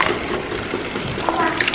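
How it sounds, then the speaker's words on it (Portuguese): Water poured into a pot of cassava being cooked, a light splashing trickle running steadily through the moment, close and moderately loud. "Aí eu vou colocar mais um pouquinho de água."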